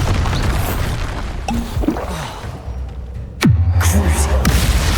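A Bombarda blasting spell in Hogwarts Legacy goes off with a sharp, loud boom and rumbling low tail, following a brief burst of smaller impacts and game sounds.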